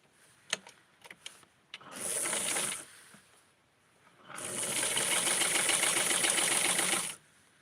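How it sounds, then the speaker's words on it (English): A sewing machine stitches the hem of a bubblegum-pink dress for a 6.5-inch Tutti doll, running in two steady whirring bursts, a short one and then a longer one, after a few light clicks of handling the fabric. "So I'm going to sew the hem."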